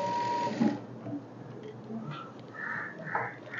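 Sewing machine running while a chudidar is stitched, a steady mechanical whir in the first second, then quieter handling sounds with a few brief higher bursts.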